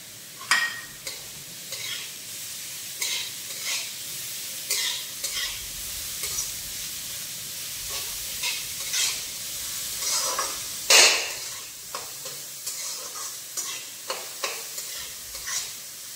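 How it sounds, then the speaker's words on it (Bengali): Grated carrot is stir-fried with a little sugar in a pan for fried rice. A steady sizzle runs under repeated, rhythmic spatula scrapes and taps, with one louder clatter midway. "গাজর আমাদের হালকা করে ভাজা হয়ে গিয়েছে।"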